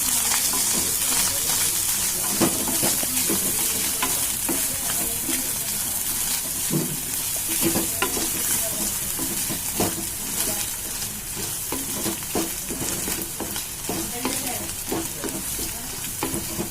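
Chicken tossed with coriander powder and garam masala fries in a pan, a steady close sizzle broken by frequent spatula scrapes and stirring clatter for the whole stretch, with no voices.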